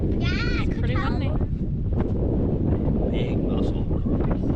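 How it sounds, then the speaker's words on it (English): Strong wind on a shoreline buffets the microphone with a constant low rumble, while people foraging mussels talk and exclaim briefly over it. "It's pretty windy."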